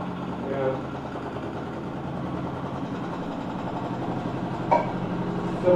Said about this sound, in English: So with only one cylinder it works smooth. It works pretty fast.